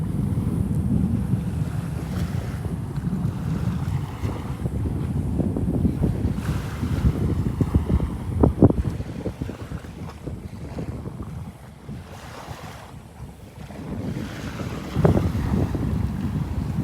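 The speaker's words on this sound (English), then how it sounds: "There's a boat going in, a boat going out." A steady low rumble from a boat idling past drones on with wind buffeting the microphone and water washing around at Delnor-Wiggins beach, continuous and fairly loud throughout.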